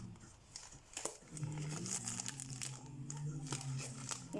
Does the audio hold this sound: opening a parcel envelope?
yes